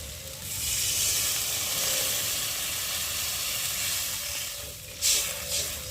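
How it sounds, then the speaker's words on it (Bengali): Water poured onto tangra fish curry masala frying in oil sets off a loud, sudden hissing sizzle that holds steady for several seconds, with a couple of brief flares near the end. "আর এখন আমি জল দিয়ে দেবো।"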